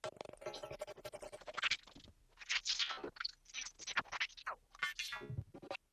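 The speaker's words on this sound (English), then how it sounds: "that kind of crunchy, like low connection kind of sound that you will get in a telephone" Crunchy, bitcrushed glitch texture, gritty and broken like a bad telephone connection, crackling in uneven bursts.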